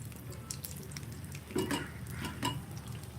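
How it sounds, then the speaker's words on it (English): A small piece of ginger sizzles gently in a pan for coriander chutney, with quiet stirring and a few clinks of a utensil against the pot, low and close with no talking. "A very small piece of ginger I'm adding."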